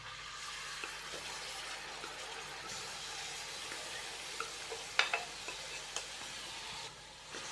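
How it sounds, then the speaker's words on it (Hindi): Marinated chicken fries in a pan with ginger-garlic paste, a soft continuous sizzle close by with light scraping and ticking from stirring, and a few sharper clicks, fairly quiet and with no talking. "तो चिकन को हम भून लेंगे तकरीबन 7 से 8 मिनट अच्छी तरह।"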